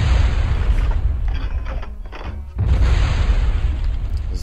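Rockets blowing up as they are shot down in the video game Turok Evolution: a sustained, loud rumbling roar of blasts that dips briefly near the middle, then surges back just as heavy.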